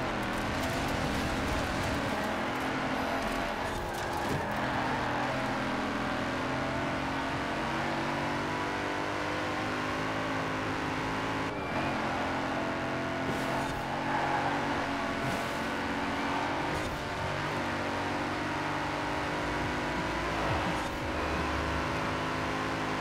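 In Forza Horizon 4, a coupé drives along with a steady, sustained engine drone, its pitch shifting slightly as it holds speed and occasionally revs, a continuous mechanical hum throughout with no talking.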